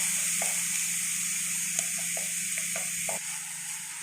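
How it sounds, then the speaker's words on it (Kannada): Grated carrot frying in hot ghee in a pan, a steady bright sizzle with occasional light scraping clicks as it is stirred. "ನಾವು ಪಾನಿಗೆ ಈಗ ತುರಿದಿರುವಂಥ ಕ್ಯಾರೆಟನ್ನು ಹಾಕ್ಕೊಳ್ತಾ ಇದ್ದೀವಿ"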